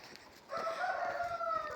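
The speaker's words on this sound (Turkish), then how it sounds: "Horoz da oradan bağırıyor zaten çıkarım diye." A rooster shut in a coop crows once from a short distance, a drawn-out, strained call rising and then trailing off against a quiet background.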